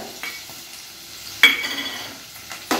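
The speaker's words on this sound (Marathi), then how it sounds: "आता लसूण आणि मिरची तेलावर छान आपण परतून घेऊया" Crushed garlic cloves and green chillies sizzle gently in hot oil for a Marathi tempering, with a soft steady fry and a few sharp clinks of a spoon stirring against the pan.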